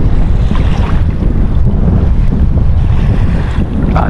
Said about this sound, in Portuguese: Olha que ventania